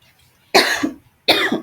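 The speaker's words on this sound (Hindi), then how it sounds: "मेरा गला खराब है इसलिए बार बार खांसी हो रही है" Two harsh, loud coughs close to the microphone, separated by a brief pause, from a person with a sore throat.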